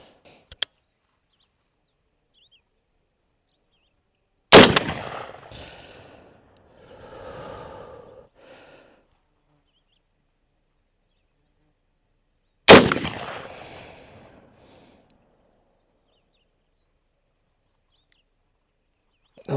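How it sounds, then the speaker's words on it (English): Two loud, sharp rifle shots from a Bear Creek Arsenal .243 Winchester fired at targets, several seconds apart, each cracking close up and trailing off into a rolling outdoor echo. "Now I'm shooting at the actual targets now."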